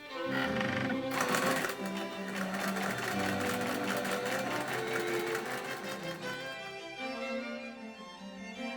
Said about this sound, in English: By first running my usual gathering stitches,